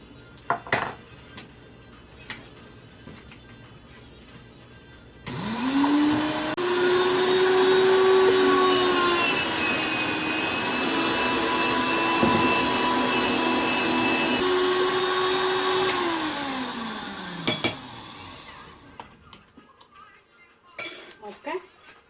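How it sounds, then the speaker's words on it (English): Carrots being grated for a coconut carrot sweet in a home kitchen: a motorized whine starts abruptly, runs steady and loud for about twelve seconds, then winds down. Light clinks of dishes sound before and after. "I wanna grate the carrot."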